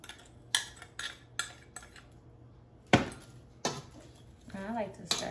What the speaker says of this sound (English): I like to stir mine all up in there so that every piece of the yam get coated with some sugar